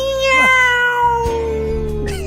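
A cat meows loudly and close in a drawn-out, wavering cry that slides in pitch, while steady music plays underneath.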